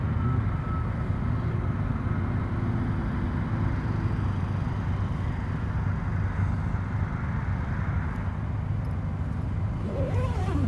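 Low, constant rumble of idling trucks and passing vehicles at a Flying J truck stop in the evening, a steady droning hum with no clear individual passes and no speech.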